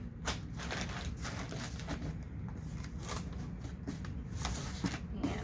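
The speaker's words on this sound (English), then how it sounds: "I'm just going to kind of fill in the gaps and the spaces with some more surgical drapes" Soft surgical drapes being stuffed into a shipping box to fill the gaps, a steady run of close crinkling, rustling and shuffling with no talk.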